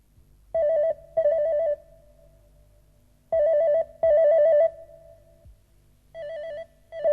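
A telephone rings in repeated double bursts, loud and close, four rings with pauses between them and no one speaking.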